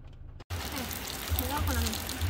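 Steady rain falling outdoors at night, a continuous close hiss after a brief silent break, with a person talking over it.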